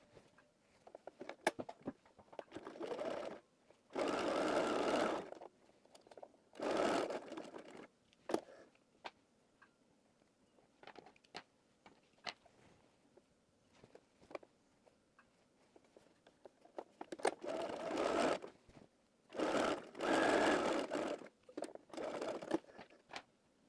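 Sewing machine zigzag stitching darts on the back of a skirt in several short bursts of rapid whirring, separated by quiet gaps with small clicks and handling noises.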